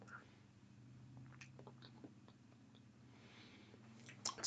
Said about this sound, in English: It's almost like just eating water, crunchy water.